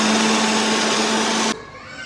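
A mixer grinder whirs at a steady high whine while blending pani puri chutney with chillies and water, then cuts off abruptly after about a second and a half, leaving faint room noise.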